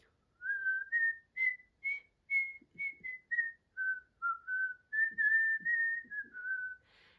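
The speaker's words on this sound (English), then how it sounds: "Can you work on shaping the mouth so you can create some type of whistle?" Someone whistles a slow, simple tune close by, a string of clear sustained notes with short breaths between phrases and faint soft noises underneath.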